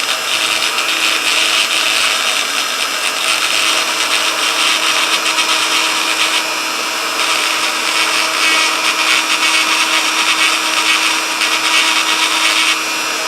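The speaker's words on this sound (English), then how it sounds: "you put in the diamond, little diamond round head here, and you turn on your Dremel and you do circular movements" A Dremel rotary tool fitted with a small diamond round head polishes scratches out of a restored Dinky Avro die-cast model, giving a steady high-pitched whine that runs continuously and loud throughout, with slight shifts in tone as pressure changes.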